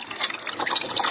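Engine coolant draining from the cooling circuit of a Renault Clio 2, a close, steady trickle and splash of liquid running out continuously with no voices.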